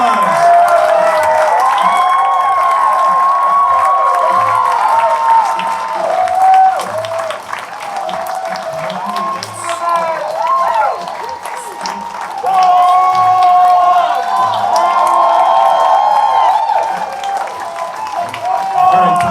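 Loud crowd applause with cheering and whoops greets actor Tom Atkins at a cinema interview event, sustained clapping that swells, dips briefly, then rises again.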